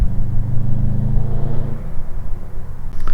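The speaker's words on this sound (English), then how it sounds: "it's so hard to beat that Subi rumble" Deep exhaust rumble from a Subaru WRX STI with a new downpipe, loud and close, holding a steady throbbing idle before easing slightly and picking back up, with no talking.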